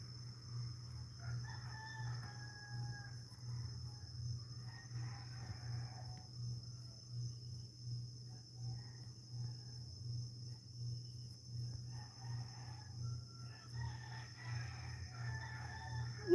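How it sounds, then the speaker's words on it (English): Chickens crowing and clucking in a faint rural soundscape, a rooster crowing in repeated bursts at a distance over a steady insect drone and a low hum. "the chickens saw I hit 12 and they started overreacting"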